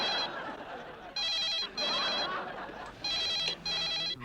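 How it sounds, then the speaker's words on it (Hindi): Outgoing telephone ringback on a call in a Hindi TV comedy scene, four bursts of bright electronic ringing spaced with short gaps, fairly loud over faint room background. "अप्पू को फोन करना पड़ेगा।"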